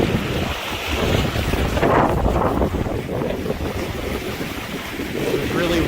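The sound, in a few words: strong wind blowing over water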